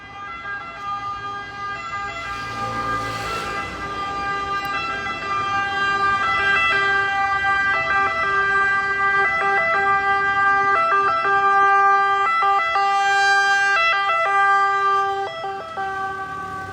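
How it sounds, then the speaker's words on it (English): Ambulance siren wailing close by on a city street near a hospital and bridge, steady repeating two-tone pattern growing louder then holding strong for over ten seconds, no talking. "There's a hospital right across this bridge, so there's a lot of ambulance traffic here, even in normal times."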